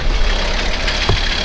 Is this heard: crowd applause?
no